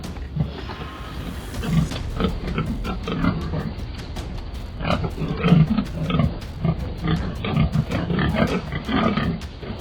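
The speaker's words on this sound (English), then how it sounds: "they chase down these giant feral pigs" Giant invasive feral wild pigs on a Florida farm, heard as a run of rough grunting roars and squeals repeating through the clip, fairly close, under a faint steady background hum.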